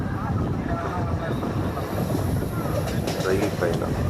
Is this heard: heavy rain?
no